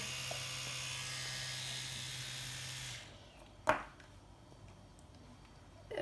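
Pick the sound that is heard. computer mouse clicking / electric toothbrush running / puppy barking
electric toothbrush running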